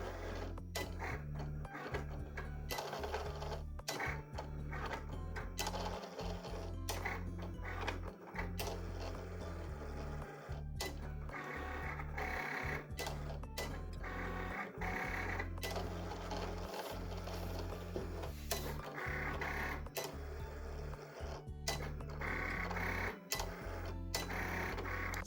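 A Cricut machine cuts vinyl with a steady mechanical hum and a rhythmic pattern of whirring carriage passes and ticking motor shifts, close and continuous, with no talking.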